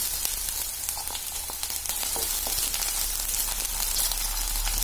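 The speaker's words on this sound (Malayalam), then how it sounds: "ഇനി ഇതിലേക്ക് എടുത്തു വെച്ച ഇഞ്ചി വെളുത്തുള്ളി ആഡ് ചെയ്ത് കൊടുത്ത് നന്നായിട്ടൊന്ന് വഴറ്റിയെടുക്കുക." Ginger, garlic, green chilli and curry leaves sizzle in oil for a Kerala fish curry with kudampuli, a dense continuous hiss held at even loudness with a few faint stirring ticks, close up and without talk.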